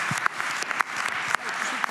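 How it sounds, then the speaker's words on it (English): A main-stage audience applauds in a short, moderately loud patter of clapping, with a few distinct sharp claps and a cheer over a dense background. "Please give applause for that."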